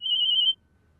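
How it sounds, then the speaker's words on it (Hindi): A phone rings with a single steady electronic tone lasting about half a second, clear and close, then cuts off into near silence. "फोन आ रहा।"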